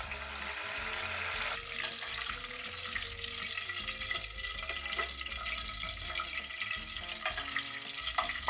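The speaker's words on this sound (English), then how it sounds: "this is truly one of the most pleasant types of frying you'll ever do" Steady, dense sizzling and crackling of food frying in hot oil, close up and continuous, with small pops and scraping stirs throughout.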